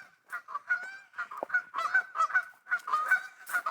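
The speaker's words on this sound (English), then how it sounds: "those geese are going to be yelling at us here soon" Canada geese honk repeatedly beside the Soo Locks, a close, loud flock calling in overlapping bursts with barely a pause.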